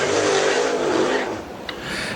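Super Late Model race car at Dixie Speedway roars hard past on the dirt oval, loud sustained engine blare that fades slightly as it moves away, with crowd and track noise underneath.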